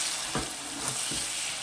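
Ivy gourd chutney frying in hot oil, sizzling steadily up close while a spoon stirs it in several soft scraping strokes, with no talking.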